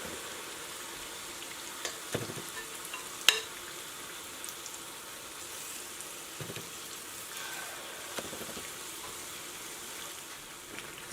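Luqaimat dough balls frying in oil for a Persian Ramadan sweet, giving a soft, steady sizzle with a few sharper pops and clinks of a spoon stirring, fairly quiet and without speech.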